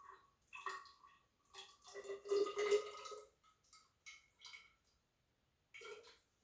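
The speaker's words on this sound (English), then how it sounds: "So we're going to pour 30 mils of water. I'm going to measure that into our graduated cylinder." Thirty millilitres of water poured into a graduated cylinder that was just rinsed of vinegar, a faint, close trickling and splashing in short intermittent bursts that fades near the end.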